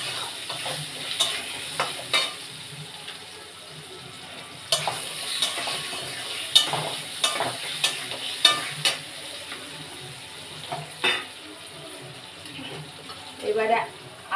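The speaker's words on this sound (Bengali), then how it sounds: "আর মাছের মাথাটা আগে ভেজে নিয়েছি, আলুগুলো দিলাম।" Potatoes stirred in a pan with a fried fish head and turmeric, heard as soft sizzling with repeated sharp clacks and scrapes of a spatula against the pan, irregular and close.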